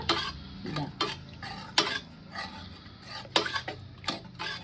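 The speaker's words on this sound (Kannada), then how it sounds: "ಈಗ ಕುಕ್ಕರಲ್ಲಿ ಬೇಳೆ ಟೊಮೊಟೊ ಬೇಯಿಸ್ಕೊಂಡಿರೋದು ಸ್ವಲ್ಪ ಸೌಟಲ್ಲಿ ಹಿಂಗೆ ಆಡ್ಕೋಬೇಕು" A ladle stirring pressure-cooked lentils and tomato for sambar, heard as a series of close, irregular scraping and clinking strokes against the pot over a low background.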